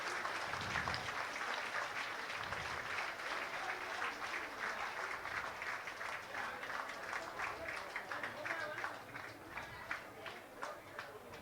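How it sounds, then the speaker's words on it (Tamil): Audience at a temple dance festival applauding after a dance performance, a long, dense, steady roar of clapping from a crowd that stays strong for several seconds before easing slightly. "கைத்தட்டி உற்சாகப்படுத்துங்கள்."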